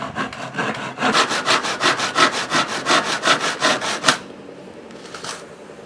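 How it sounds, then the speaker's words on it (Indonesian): Hand rip saw cutting lengthwise through wooden frame material, about fifteen fast, even rasping strokes, close and loud, then stopping abruptly with a few faint scrapes afterward. "Kita mulai lagi membelah dengan gergaji belah."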